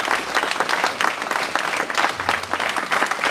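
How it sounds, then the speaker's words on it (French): Audience applause at the inauguration of a Playmobil exhibition in the Bertry sports hall, dense clapping that swells and dips in waves, with many distinct hand claps and a faint voice low in the mix. "je pense qu'on peut les applaudir et applaudir Alban"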